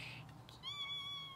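A kitten meows in a clear rising-falling mew, then a longer drawn-out cry, close by in a quiet indoor room, with faint background hum and no talking.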